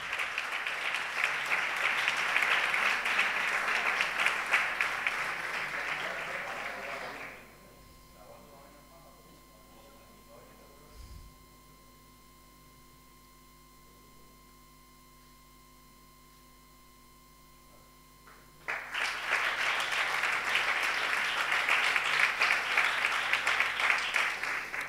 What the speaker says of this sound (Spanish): Así que fuerte aplauso para Manuel Jesús López Torres.